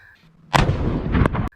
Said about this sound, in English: That's more appropriate. Cannons.